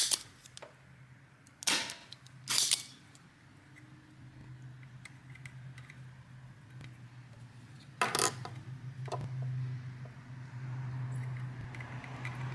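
A solder sucker desoldering pump snaps sharply several times while a laptop charger port is desoldered on an Asus Zenbook Duo UX481F, with distinct close clicks over a steady low hum from workbench equipment.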